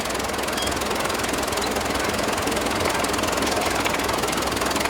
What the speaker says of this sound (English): Single cylinder Rumley, I think this is a 1530. It's a Rumley heavyweight because it has the channel iron frame.